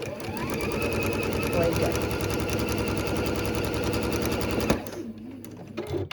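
Sewing machine stitching quilt patches for a beginner's nine-patch sampler quilt, a steady rapid mechanical whir running loud and continuous for most of the clip, then stopping abruptly as a person speaks briefly.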